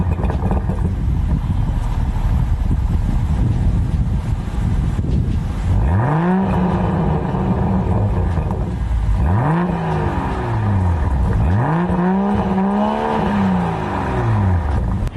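A 2020 BMW M340i xDrive's engine revs three times in rising and falling sweeps, loud and close, after a stretch of steady idle rumble and broadband noise.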